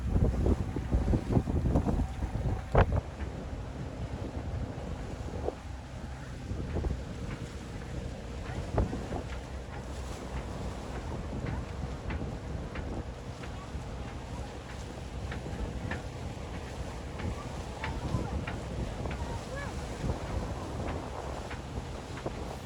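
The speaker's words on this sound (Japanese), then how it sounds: "実際パスを通るときは風を強く感じました" Strong wind buffets a sailboat heading out through an atoll pass toward Apataki in the Tuamotu Islands. Steady gusty roar and microphone rumble run throughout, with water and hull noise beneath and occasional faint voices.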